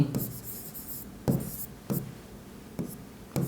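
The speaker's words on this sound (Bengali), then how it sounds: "তাহলে পরবর্তী পদ দুটি যথাক্রমে এখানে লিখবো এইভাবে" A hand writes on paper during a math lesson, producing short scratchy strokes in separate bursts with brief pauses between them, close and fairly clear. Faint speech sits in the background.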